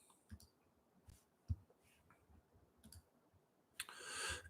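A computer mouse clicks several times in a quiet room, with faint, sparse clicks spread out and a brief rustling burst near the end.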